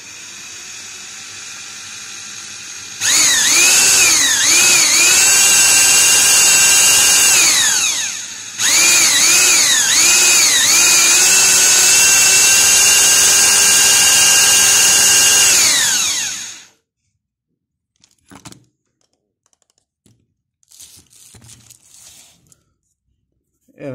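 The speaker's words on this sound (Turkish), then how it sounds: "Sonra şu matkabı buldum" A battery-powered drill bores into a Fiat Tempra rear door lock motor housing, whining loudly and steadily in two long bursts with a brief pause between, then falling silent with faint handling clatter afterward.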